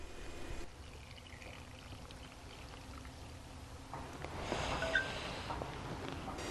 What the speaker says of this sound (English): Then I add about 2 cups of water.